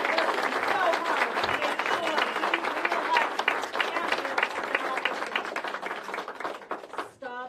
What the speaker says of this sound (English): Can we also get a round of applause for the people behind the scenes who have been working